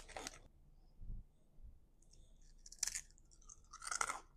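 Crunchy shrimp chips with a garlic flavour from a Japanese snack box being bitten and chewed up close, with a few separate crisp crunches spaced out amid quiet pauses and no talk.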